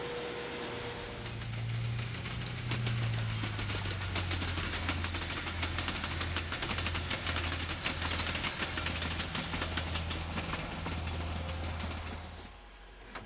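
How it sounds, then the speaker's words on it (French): A Chemins de fer de Provence train, the AMP 807-808 railcar set on the Nice to Digne-les-Bains line, runs with a steady loud engine drone and rhythmic rail clatter, heard alone without speech. "Nous allons prendre place à bord du train 3 Nice-Digne-les-Bains"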